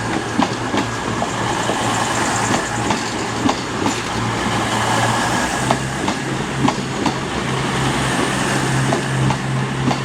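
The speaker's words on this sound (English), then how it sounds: "now coming in is the very late running cross-country service to Edinburgh" CrossCountry Class 221 passenger train, unit 221128 running late to Edinburgh, arriving at Leeds station, a loud close rumble with rhythmic wheel clatter over rail joints and a steady low engine drone.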